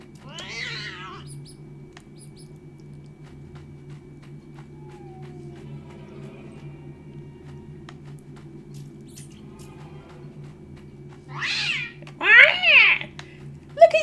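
A cat meows in a video game, with a faint call near the start and louder, sharper meows near the end over a low steady hum and soft ambient sounds.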